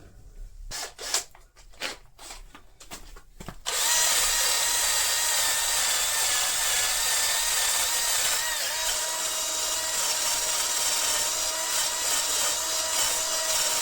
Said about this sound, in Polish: przy użyciu szczotki drucianej na wiertarce